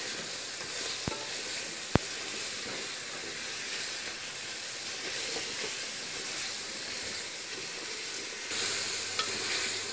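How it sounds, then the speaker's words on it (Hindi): Mutton frying in oil in a pan for palak gosht, a steady hissing sizzle close by with a couple of sharp utensil clicks and a brief louder rush of steam near the end, no speech. "और इसे 5 मिनट के लिए भून लूंगी।"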